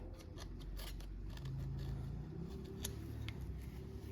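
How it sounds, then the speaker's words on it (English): Scissors cut through leather for a knife sheath, leaving a generous margin to sand off later, in a run of close, repeated snips and crunches over a steady low hum in a quiet workshop. "I'm going to cut it a little generous, leave a little bit here to sand off."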